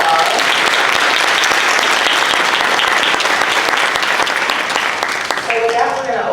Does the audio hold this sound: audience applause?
yes